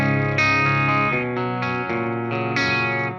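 Electric guitar on its bridge pickup through an EVH 5150 Iconic amp, playing a clean, effects-tinged tone. Sustained chords change roughly every half second to a second, ringing full and steady with no talking.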